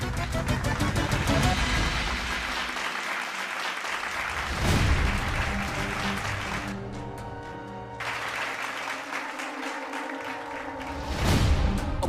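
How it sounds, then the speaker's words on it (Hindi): Loud applause for winning couples at a festive family contest in a Hindi TV serial, continuous clapping from a crowd that swells and dips, with a brief lull and a musical sting cutting through. "जोरदार तालियां।"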